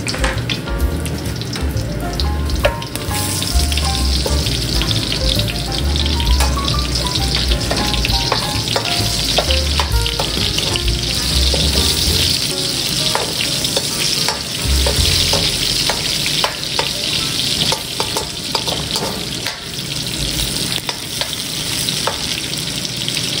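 Onions sizzling and frying in a hot pan alongside pork belly for a Filipino dinuguan, a steady crackling hiss with occasional stirring clatter throughout, close and fairly loud, no talking.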